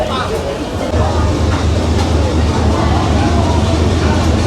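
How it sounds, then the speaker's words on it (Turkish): A train rolls into the station with a loud, steady low rumble and rattle that grows heavier after the first second. A voice talks faintly underneath. "Tren geliyor sonunda."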